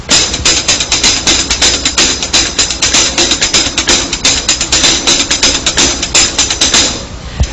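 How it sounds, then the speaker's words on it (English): A paradiddle-based snare-style solo is played on the hi-hat: a fast, dense, steady stream of bright, loud strokes with accents, close and alone. "I'll play it on the hi-hat."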